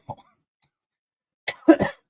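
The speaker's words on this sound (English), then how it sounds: "oh, I'm coughing." A short cough, then a pause, followed by a couple of harsher coughs close to the microphone.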